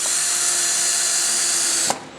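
A power drill drives a screw into plywood, a loud steady high whine held close for about two seconds before it stops abruptly with a short thunk.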